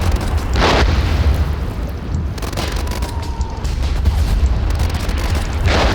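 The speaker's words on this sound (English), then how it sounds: "Mortar shell right there." Mortar shell explosions in a trench-warfare video game, heavy booming blasts over a constant rumbling battlefield din, with a couple of sharper bursts standing out.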